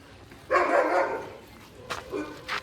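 A dog barks nearby: one loud, drawn-out bark, then a couple of shorter, softer barks follow.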